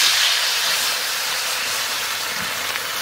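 Water poured into a hot pan of frying hilsa fish sets off a loud, steady steaming hiss and sizzle that fades slightly after the first second and holds on to the end, with no talking.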